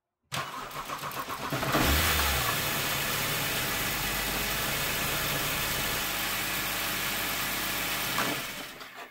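A BMW E90 car engine cranks and catches, settling into a steady, loud idle that runs for several seconds before cutting off.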